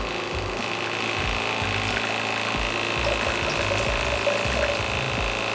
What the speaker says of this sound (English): So let's crank this thing all the way open and you can hear this pump.